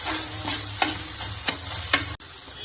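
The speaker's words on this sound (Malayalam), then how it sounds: "നല്ല വഴറ്റി ഇതിന്റെ പച്ചമണമൊക്കെ മാറിയതിന് ശേഷം നമുക്ക് ഫ്ലെയിം ഒന്ന് ഓഫ് ചെയ്യാം. നന്നായി വഴറ്റും." Onion masala sautéing in a pan as filling for stuffed squid: a close, steady sizzle with a few sharp spatula scrapes, ending abruptly.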